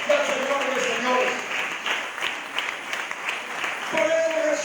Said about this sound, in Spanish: Denle un fuerte aplauso al Rey de Reyes y al Señor de Señores.